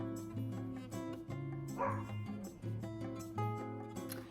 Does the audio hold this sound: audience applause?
no